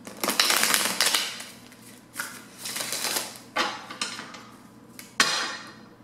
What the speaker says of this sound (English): So now I want to start shuffling correctly.